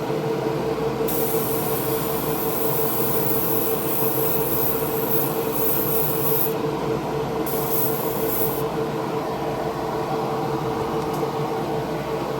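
A spray gun lays SMS 2K clear coat onto a 1929 Ford Model A at around 22 degrees, with two long loud hissing passes over a constant droning background, and no voices.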